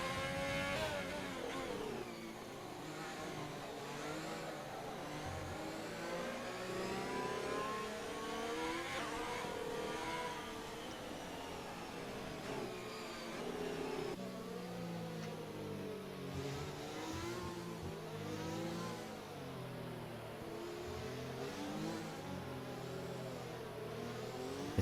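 Race car engines rev and whine continuously in an F1 racing video game at the Azerbaijan circuit, pitch sweeping up and down through gear changes, loud and steady throughout with no talk.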